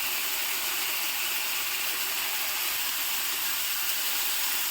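Food fries in a pan over a low flame, giving an even, unbroken sizzling hiss that holds at a constant moderate level throughout, with no voices.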